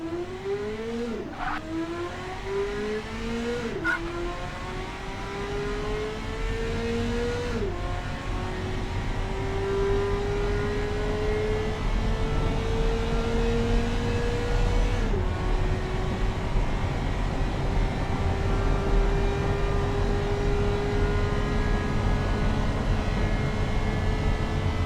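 Virtual 1996 Marina Spark MkVI car in Automation accelerating hard through its gears, the loud engine note climbing steadily and dropping at each of several shifts, then holding a high cruising drone.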